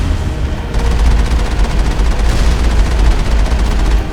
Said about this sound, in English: Heavy turret. Who put these turrets here?